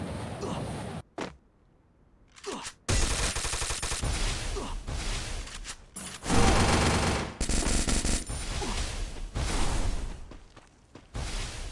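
Gunfire in the mobile battle-royale game Free Fire, with loud rapid automatic bursts in several volleys broken by short silent gaps, heavy and close throughout.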